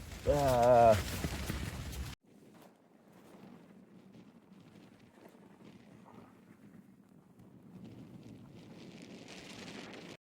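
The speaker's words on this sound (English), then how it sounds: "it's still really windy" Steady low rumbling wind noise buffets the microphone outdoors in the Wind River Range for several seconds, following a short burst of talking at the start.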